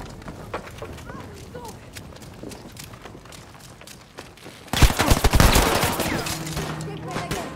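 Video game gunfire in a Battlefield V match bursts out in loud rapid volleys partway through, following quieter game ambience with faint clattering; players talk over the action.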